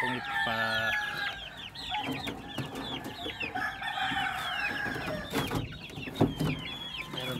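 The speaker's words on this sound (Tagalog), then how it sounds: "Ito yung native chicken" Native chickens cluck and a rooster crows nearby, with several birds calling in overlapping bursts on a farm for about seven seconds.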